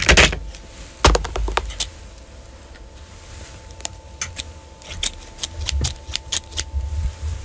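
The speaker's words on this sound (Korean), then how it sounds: "가위지." Scissors snip thread for a bead craft at close range, giving a few sharp clicks and snaps spread across a quiet indoor background, with no talking.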